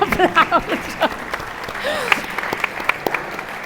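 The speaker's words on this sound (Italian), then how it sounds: "posso dirvi che va un applauso." An audience at a book presentation for a centenary claps in a brief, moderately close burst of applause that tapers into scattered claps, with voices murmuring underneath.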